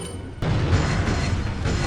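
A boss in the Resident Evil 4 video game is killed by an explosion: a sudden loud blast hits partway in, then a dense, sustained rumbling roar that stays strong to the end, with no talk over it.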